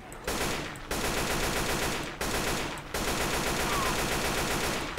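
Rapid automatic gunfire in Left 4 Dead 2, dense sustained bursts of loud shots broken by a few short pauses, continuing through most of the stretch.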